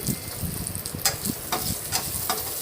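Cashew nuts frying in a pan with whole spices, cardamom, cloves and cinnamon, a constant close sizzle with several brisk scraping stirs at regular intervals, no voices.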